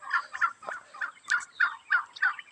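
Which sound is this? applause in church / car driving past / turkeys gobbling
turkeys gobbling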